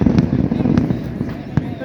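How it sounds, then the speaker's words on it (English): Fourth of July fireworks in Annapolis crackle and thud at a distance, a dense rumbling wash punctuated by sharp bursts roughly every half second. "There are the fireworks."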